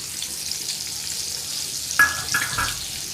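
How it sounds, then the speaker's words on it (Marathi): Ground masala paste for a prawn curry, with kokum added, fries in hot oil with a continuous bright sizzle, then a louder burst of spattering and stirring partway through. "तेलात परतून घ्यायचं आहे व्यवस्थित"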